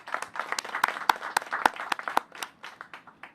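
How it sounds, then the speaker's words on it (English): Sparse applause from a small audience at a vaccination clinic event at FutureCare NorthPoint, with a handful of distinct, close hand claps, uneven and thinning toward the end. "Will you please give them a big round of applause?"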